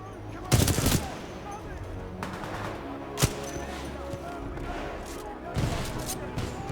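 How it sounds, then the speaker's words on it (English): Gunfire in the video game Titanfall 2, with a few loud bursts and a single sharp shot standing out from a busy, rumbling battle background. "Commencing supporting fire."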